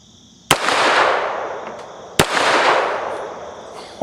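A French Model 1935A pistol fires two sharp shots outdoors at a 2-liter bottle about 12 yards away, each crack trailing a long fading echo, and a third shot begins right at the end.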